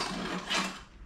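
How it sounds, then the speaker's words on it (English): A hand file rasps once across the edge of a metal aircraft part, a faint, short scraping stroke that swells and fades within about a second. "I'm just going to file them down real quick"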